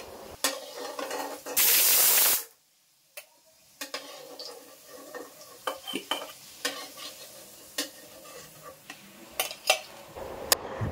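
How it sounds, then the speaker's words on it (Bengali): Potato pieces frying in mustard oil give a loud burst of sizzling, then a quieter stretch of scattered clinks and scrapes from stirring in the pan. "এখানে প্রথমে আলুগুলো আমি সর্ষের তেলে খুব ভালো করে লাল লাল করে ভেজে তুলে নেব"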